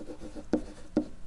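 Chalk or marker strokes on a classroom board, a few short scratchy taps and squeaks spaced irregularly, close and fairly quiet, with no talk over them.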